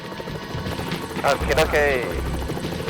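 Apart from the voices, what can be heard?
police helicopter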